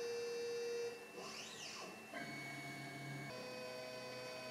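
A Carvey desktop carving machine whirs into motion with mechanical buzzing and rising and falling motor sweeps, faint and steady throughout, shifting tone as it moves, with no speech.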